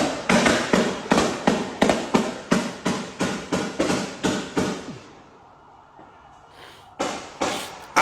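Gunshots ring out in a fast, loud volley of about fifteen evenly spaced cracks. A short pause follows, then two more shots.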